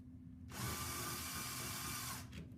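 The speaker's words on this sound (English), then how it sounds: "I'm just going to go ahead and drill our 3 holes" An electric drill bores 5mm holes into a cabinet side, a steady loud whine lasting about two seconds, starting and stopping abruptly against quiet room tone.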